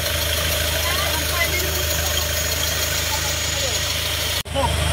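A Hyundai Starex CRDi diesel engine idles steadily after repair, a loud continuous low rumble with a faint knocking rhythm, broken by a brief dropout near the end before it resumes.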